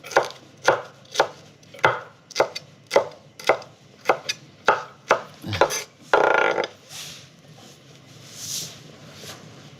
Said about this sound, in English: I will chop this too, just like that.